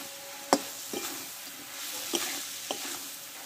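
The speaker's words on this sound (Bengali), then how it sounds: "এবার আমি ভালো করে নাড়াচাড়া করে নেব, একটু মাখো মাখো হবে।" Fish head and ash gourd curry being stirred in a pan, with a few soft scrapes and clinks of the spatula spaced out over a low, steady sizzle.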